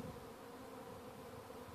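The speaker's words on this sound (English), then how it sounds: "Now it looks like most of the bees are probably in the swarm" Honey bee swarm buzzing high in a tree, a faint, steady, dense hum with no break and no voices over it.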